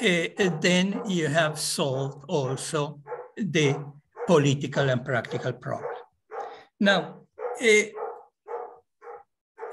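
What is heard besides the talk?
dogs barking outside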